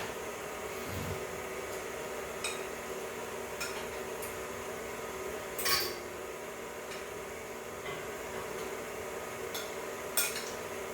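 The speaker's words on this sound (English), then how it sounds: "So I'm going to spoon this in so it can mix up." A spoon scrapes and clinks in a bowl while stiff cinnamon raisin cookie dough is spooned in and mixed, with sparse close knocks over a steady low hum.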